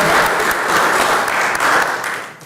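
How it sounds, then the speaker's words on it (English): A full room of people claps in sustained, even applause for a guest speaker at a scouting gathering, loud throughout and tapering slightly at the end. "we will give him a well-deserved round of applause"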